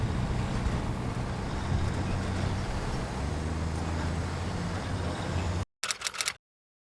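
A military vehicle's engine in Hell Let Loose roars steadily at high revs for several seconds with the handbrake held, loud and constant, then cuts off abruptly before a brief burst of sound and silence.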